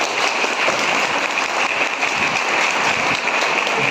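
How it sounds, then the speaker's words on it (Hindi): An audience at a gathering applauds a young journalist, a steady, dense wash of clapping that holds evenly at close range for several seconds without pause. "उनके लिए ताली हो जाए।"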